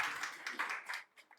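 An audience at a church gathering applauds briefly, a soft, fairly distant patter of many hands clapping that thins out and fades within a second or so.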